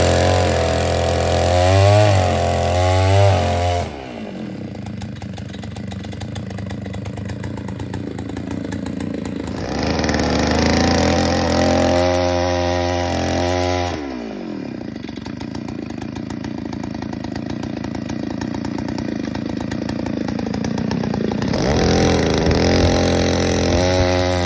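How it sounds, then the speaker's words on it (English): Powered auger with a larger bit boring wide post holes for wood store poles, a loud chainsaw-like two-stroke engine droning steadily and rising and falling in pitch as it labours through the ground, with brief drops between bursts. "you would have seen Will using the bigger auger bit to dig the wider hole for the poles"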